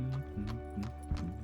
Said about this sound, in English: Horses' hooves clip-clopped along as birds chirped.